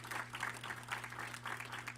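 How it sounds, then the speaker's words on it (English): Audience clapping at a church holy convocation, a dense, steady patter of many hands heard from a little distance over a low electrical hum, without any talking. "Clap it up."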